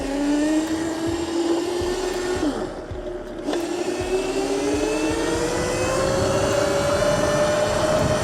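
A Razor MX650 48V electric dirt bike whines along a trail, its motor pitch rising and falling with the throttle. A brief dip near the middle eases off before the loud whine climbs again.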